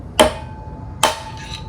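Two sharp metallic hammer strikes on a screwdriver driving out a wheel bearing on a Honda NC700X motorcycle, spaced about a second apart, close and crisp with short ringing decays.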